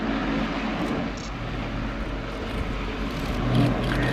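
An Airbus A400M Atlas turboprop roars loud and steady during a flying display at the RIAT 2017 airshow, its broad engine and propeller drone filling the air without a break.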